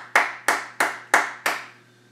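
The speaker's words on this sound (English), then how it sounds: "A big round of applause." Five slow, evenly spaced hand claps ring out close and sharp, each decaying quickly, with a faint steady hum behind them.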